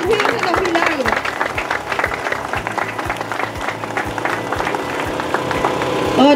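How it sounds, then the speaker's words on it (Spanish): Crowd applause for the Señor de los Milagros at a religious gathering, steady clapping mixed with rhythmic low thumps and background voices, swelling slightly at the end. "Un aplauso bien fuerte para nuestro Señor de los milagros."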